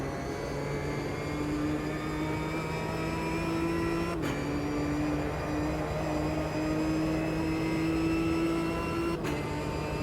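A race car engine in Automobilista 2 hums in a steady, droning tone that shifts slightly in pitch, with two brief gear-change dips, heard alone and moderately loud.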